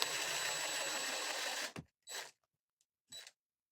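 A small drill whirs steadily on a little country barn craft piece, then stops and gives two short bursts as holes are started.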